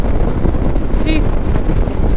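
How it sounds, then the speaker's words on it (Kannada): Strong wind buffets the microphone while riding a motorbike at speed on a one-day ride out to Mandaragiri Hills, a loud continuous roar with a brief higher whine partway through. "ಹೆಂಗೆ ಗಾಳಿ ಬರ್ತಿದೆ ಅಂದರೆ"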